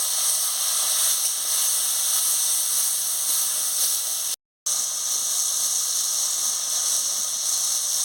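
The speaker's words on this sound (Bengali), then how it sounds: "সামান্য একটু জল দিয়ে মশলাটা ভেজে নেব।" Spices (cumin and turmeric powder) frying with a splash of water in a pan for a papaya curry, giving a steady loud hiss and sizzle that runs continuously, broken only by a brief dropout midway.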